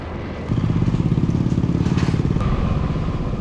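A rented motorbike on rough, poorly kept island roads in Koh Lanta, Thailand, its engine droning loudly with a rapid pulsing rumble and rattling over the uneven surface.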